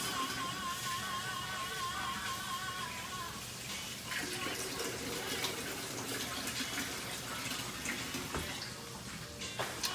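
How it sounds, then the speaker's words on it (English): Crawfish tails rinsed under a running kitchen tap, a continuous splashing rush of water with light clatter and a few sharper knocks near the end, close and without talk. "I'm rinsing my my crawfish tails because I'm also gonna put some crawfish meat in my sauce"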